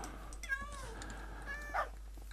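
A video-game cat meows twice, drawn-out cries standing out over a constant low background hum.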